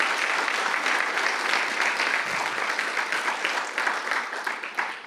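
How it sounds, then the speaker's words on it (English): An audience claps for college faculty at a business symposium, a dense, steady wash of applause from many hands that holds strong and then slowly thins toward the end. "Let's give our faculty a round of applause."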